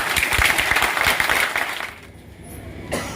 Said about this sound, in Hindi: एक बार ताली बजा दे अपने लिए।